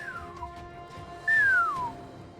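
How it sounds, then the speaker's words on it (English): A weak, thin human whistle from a dry mouth, two brief descending wavering tones, the second a little louder, over a faint background. "so that first attempt at a whistle was really sad."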